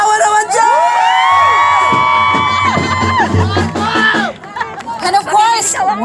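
An audience at a Filipino show shouts and cheers in a loud burst of whoops and raised voices that rises, dips briefly, then surges again.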